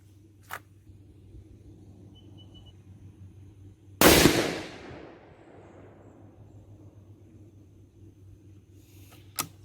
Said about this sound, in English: I'm going to go ahead and send the first shot down